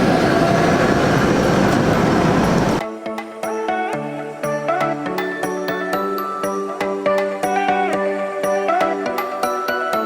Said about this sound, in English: we're gonna have to walk in the road and dodge the trams.